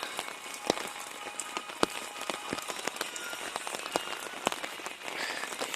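Heavy rain patters steadily and evenly on nearby surfaces, with scattered sharper drops standing out against a continuous wash; no voices.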